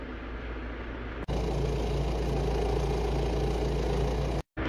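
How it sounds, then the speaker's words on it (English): Tractor engine idling, then a hydraulic front end loader is raised, bringing a steady strained hum and a faint whine that holds until an abrupt cutoff near the end. "if I want to raise my front end loader, I just have to pull this back towards me"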